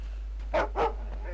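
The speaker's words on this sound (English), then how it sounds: "There's a dog." Two quick dog barks in a video game, close and moderately loud, over a steady low hum.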